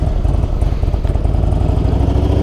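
A Harley-Davidson Road King motorcycle engine idles close by, a loud, steady low-pitched lumpy rumble with a clattering pulse running through the whole stretch, alone with no voices.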